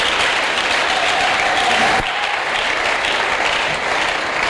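A church congregation claps and cheers for God in a sustained, dense wall of applause that fills the room, loud and continuous, briefly dipping midway before carrying on.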